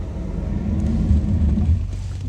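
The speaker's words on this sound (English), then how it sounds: "Let's listen to the brakes." Rear brakes on a Chevy Impala with worn pads and rotor, heard from inside as a low, steady grinding rumble that swells slightly mid-way under road noise, with no talking.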